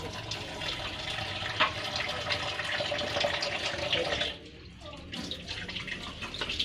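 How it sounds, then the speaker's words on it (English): Water from a kitchen tap runs into a sink while dishes are washed, a steady close hiss and splash that drops off and turns softer and more broken near the end, with no speech. "I always get myself wet when washing."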